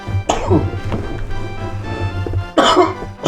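A character in the video game Succubus Quest coughing, a couple of close, loud harsh coughs with throat clearing over a low background music hum.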